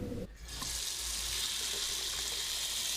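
Tap water runs steadily into an unclogged bathroom sink and drains freely, making a continuous close, bright rushing splash that begins abruptly and holds at an even level.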